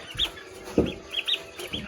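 Chickens cluck softly in a village yard, a few short, scattered calls at moderate distance.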